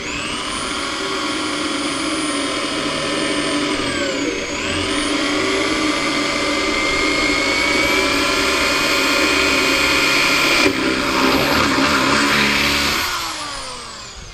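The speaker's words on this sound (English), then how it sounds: "I have to drill a new hole in order to mount this properly" A power drill whines steadily as it bores a new hole to mount a go-kart seat. The motor pitch dips briefly, holds loud and sustained for several seconds, then winds down as the bit breaks through.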